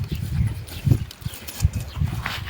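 A mare steps about close by, with irregular soft low hoof thuds on the ground every half second or so, and faint background noise around them.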